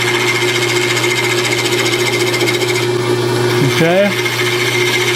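A lathe turns a chess pawn while a round carbide tool cuts it with a steady, close, humming drone and a whiny pitch sweep near the end; a voice speaks briefly.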